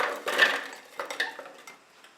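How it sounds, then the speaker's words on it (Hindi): Frozen banana pieces dropped into a chopper bowl, making a few quick, close knocks and clatters against the container, irregular and fairly quiet, with no talking. "आप चॉपर में डालेंगे फ्रोजन बनानास"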